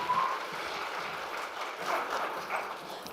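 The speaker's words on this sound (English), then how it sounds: "keep clapping" Steady applause fills the room for a pageant contestant at Miss Indigenous Canada 2024, a continuous wash of clapping from an audience with small swells, no talk over it.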